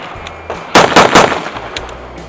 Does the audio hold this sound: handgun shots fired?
yes